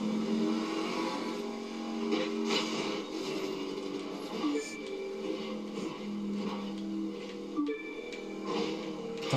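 A car in The Crew 2 video game drives and revs, its engine drone rising and falling steadily throughout, loud and continuous with no voices.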